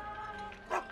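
A dog in Final Fantasy VII Rebirth lets out one brief yip-like bark over a steady ambient game background, faint and with no talking.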